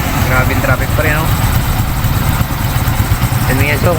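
A steady, loud mix of idling motorcycle and car engines fills a jammed bridge in Binmaley, Pangasinan, throbbing close by with voices speaking intermittently over the din.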